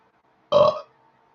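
A single loud, short burp, close to the microphone, lasting about a third of a second against near silence.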